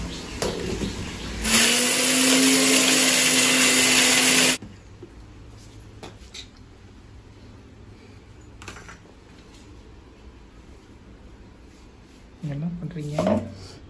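Mixer grinder grinding dried grain for homemade baby food, a loud steady whirring for about three seconds that then cuts off, followed by quieter kitchen handling noises and occasional voices.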